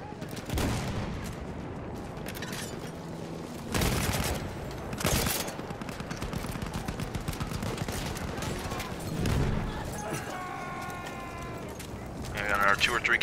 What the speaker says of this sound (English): I'm gonna keep doing bomb runs for you guys